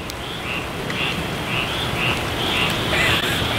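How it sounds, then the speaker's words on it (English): Tree frogs call in a quacking, duck-like rhythm outside an RV, a regular series of short croaks repeating about twice a second over a steady hiss of night ambience. "I think we have some tree frogs. They sound like ducks."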